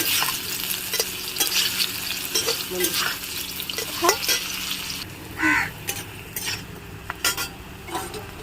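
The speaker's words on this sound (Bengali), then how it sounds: "তোমার আলুগুলো ভাজা হয়ে গেছে" Potatoes fry in hot mustard oil in a kadai, a steady sizzle with stirring scrapes and faint utensil clinks recurring over the crackle, close by with no talking.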